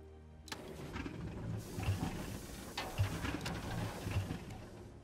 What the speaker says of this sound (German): So, kurz mal Motor anschmeißen.